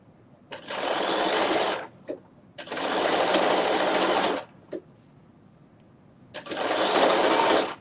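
Sewing machine stitching a Simplicity 9790 dress, three loud steady runs of rapid whirring separated by pauses with brief clicks, close and alone.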